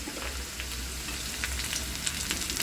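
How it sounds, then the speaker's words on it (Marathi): Onion and green chilies fry in a pan, a continuous close, fairly loud crackling sizzle with small spattering pops throughout and no voices. "पटकन आपण कांदा भाजून घेऊया कांदा भाजलेला ते यामध्ये आपण मिरची ॲड करूया"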